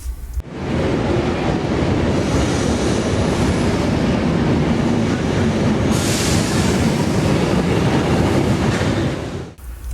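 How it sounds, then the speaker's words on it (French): A Circum Vesuvio narrow-gauge, metre-gauge train rolls along steadily near Napoli, giving a loud, dense continuous rumble and roar with a faint clickety-clack, heard close from on board and fading out at the end. "nous voici dans la gare souterraine de Napoli Centrale pour prendre le train du Circum Vesuvio"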